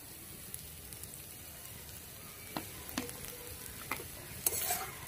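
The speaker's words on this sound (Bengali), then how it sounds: "এটা একটু ভালো করে নেড়ে দেবো।" Egg tomato curry is stirred in a pan with fresh oil added: a soft, continuous sizzle broken by several sharp scrapes and clinks of a spoon against the pan, close and fairly quiet.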